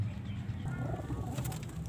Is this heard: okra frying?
no